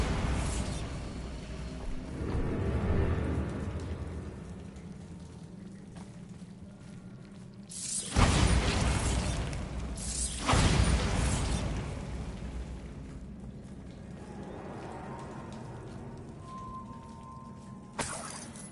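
Bombarda spell blasts in the Hogwarts Legacy video game: two loud, booming bursts a couple of seconds apart over a steady rumbling ambience, followed by a sharp, shorter hit near the end.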